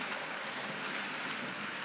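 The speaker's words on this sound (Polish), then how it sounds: "Sam stukot miarowy kół dużo bardziej mi się podobał. Właśnie tak jak teraz jedzie pociąg." A ROCO model intermodal freight train rolls along a layout, giving a steady, even rattle of wheels on track that stays at a constant level throughout, with no voices.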